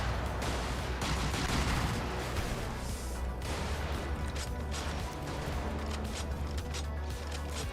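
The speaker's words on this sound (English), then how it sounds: "It just took that whole-ass cannon round to the face." Cannon fire and explosions in the mech combat video game Brigador rattle in a dense, continuous barrage of heavy booms and crashes, loud and with no speech over them.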